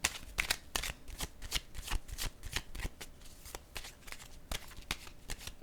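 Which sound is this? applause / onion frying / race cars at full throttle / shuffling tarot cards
shuffling tarot cards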